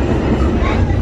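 A New York subway B train riding toward Penn Station, heard from inside the car as a loud, close, continuous rumble of wheels on track with rattling, lasting only about a second.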